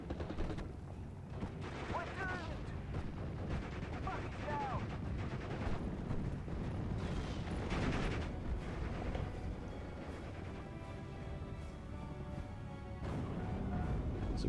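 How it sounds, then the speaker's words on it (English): Mortar fire and battle noise in the Steel Division: Normandy 44 World War II strategy game, with dense, continuous rumbling blasts and crackling gunfire running throughout at a steady, loud level. "So I had my mortar in the vicinity, so I called in mortar fire to suppress them."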